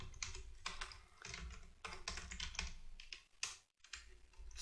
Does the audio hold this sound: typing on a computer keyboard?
yes